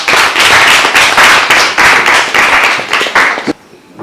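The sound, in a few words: group clapping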